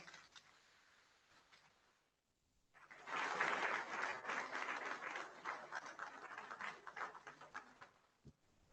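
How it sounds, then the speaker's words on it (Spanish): Audience applause welcoming a speaker at a 60th anniversary institute lecture, starting after a quiet pause and building into a steady, moderately distant clapping that tapers at the end. "Le damos la bienvenida con un fuerte aplauso."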